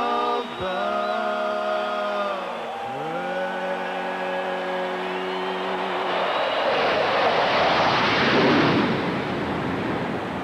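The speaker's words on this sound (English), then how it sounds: "the F-18 Hornets from the U.S. Navy make their way" A roaring rush of U.S. Navy F-18 Hornet jets flying low over a baseball stadium on opening night builds and swells from the middle onward, covering a sustained sung note and crowd noise.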